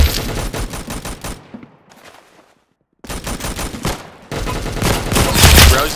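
Loud, fast bursts of automatic fire in the Roblox game Arsenal, stopping for a short silence before rattling on even harder.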